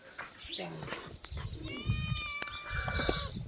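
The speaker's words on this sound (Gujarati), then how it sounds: "બિલાડી" A cat meows in a rising, drawn-out call near the middle, with a family's morning chatter and household noise around it at home.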